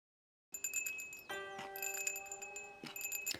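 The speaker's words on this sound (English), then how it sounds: "Why are there these bells, these wind chimes?" Wind chimes in an animated episode ring out in bright metallic strikes, a cluster of clear sustained tones layering and overlapping after a brief silence, delicate and fairly quiet with repeated new strikes.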